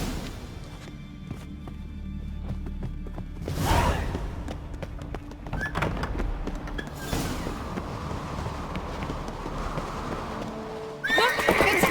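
A horse in the video game The Witcher 3, set in Skellige, lets out loud whinnies and neighs, with the clip-clop of hooves and swishing movement running between the calls.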